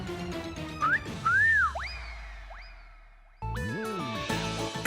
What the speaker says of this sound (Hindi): तुमने अभी मुझे सीटी मारी है